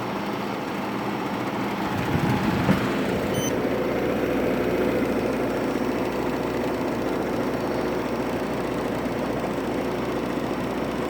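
A 1957 Fedders Weather Wheel air conditioner runs with a steady, loud mechanical hum and fan rush, continuous and close, with a brief clunk early on.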